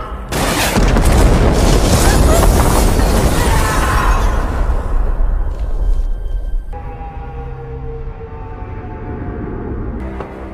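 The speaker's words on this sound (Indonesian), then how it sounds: "Setelah ledakan besar menghancurkan gedung itu, Harp diselamatkan oleh Leo." A massive, roaring explosion destroys a building in a film, loud and rumbling for several seconds before settling into a lower, lingering rumble with debris-like noise.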